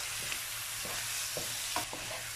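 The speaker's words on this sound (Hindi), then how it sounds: "लाल मिर्च और नमक शामिल करेंगे और अदरक भी शामिल कर देंगे। तो अच्छे से चला लेंगे, आंच हमारी हाई है।" Spiced onion, tomato and okra masala with turmeric, red chili, salt and ginger being stirred as it fries over high heat, a steady close sizzle broken by a few scraping stirs of the spoon, with no talking.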